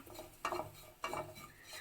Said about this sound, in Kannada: ಪಾಕವನ್ನು ಹಾಕಿಬಿಟ್ಟು ಈಗ ಚೆನ್ನಾಗಿ ಹುರ್ಕೋಬೇಕು